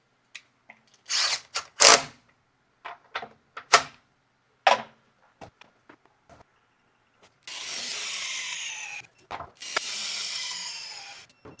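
A Makita 18V brushless right angle impact wrench in reverse on mode 3 at 400 foot-pounds, with a series of short sharp bursts followed by two longer sustained hammering runs, close and clear with no talk.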